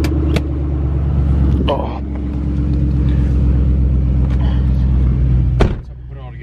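A car fitted with a newly installed Eibach Pro Damper kit, sway bar kit and Sportline springs drives along with a steady, loud engine and road rumble, briefly under a single spoken exclamation.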